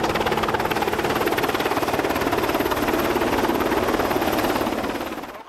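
A loud, continuous hovering helicopter rotor thumping close by, steady and droning throughout before easing slightly at the very end.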